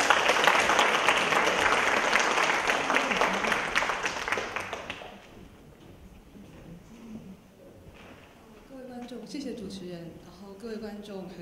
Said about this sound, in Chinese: 掌声欢迎总监